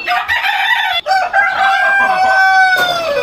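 Columbian Brahma chickens on a poultry farm crow and cluck loudly and close by, with a sustained rooster call followed by further fowl sounds and no talking.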